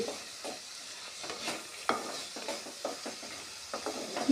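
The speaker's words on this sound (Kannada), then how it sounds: "ಎಣ್ಣೆ ಒಳಗೆ ಒಂದು ನಿಮಿಷ ಫ್ರೈ ಮಾಡಿಕೊಳ್ಳರಿ ಅವ್ರಿ ಕಾಳನ್ನು" Field beans (avarekalu) are stirred in hot oil in a pan, a soft sizzle under repeated scraping strokes of a spatula and a few light metallic clinks, close and fairly quiet.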